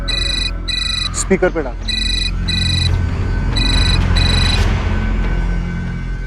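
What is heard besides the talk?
phone ringing with incoming call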